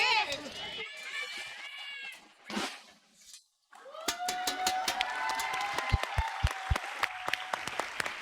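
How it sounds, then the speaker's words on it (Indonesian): Broadband applause from a studio comedy audience mixed with sharp, close individual claps and overlapping talking voices, starting after a brief pause and continuing steadily to the end. "Loh, ikut tepuk tangan. Ikut tepuk."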